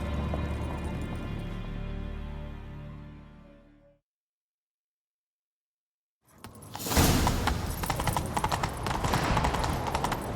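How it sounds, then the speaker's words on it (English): Rhythmic hoofbeats of a galloping horse in The Witcher 3: Wild Hunt, loud and busy, with a sharp silent gap midway before the gallop resumes with rushing noise. "Grab a horse, we'll chase him down."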